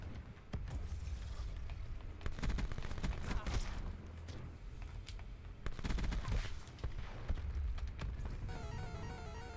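Gunfire echoes through a Call of Duty match, with bursts of shots and sharp blasts that come in clusters between quieter gaps.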